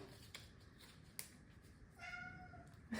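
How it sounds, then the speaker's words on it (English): A domestic cat meows once, fairly faint and close by, heard against a quiet indoor room with a few small clicks and rustles. "It's my cat."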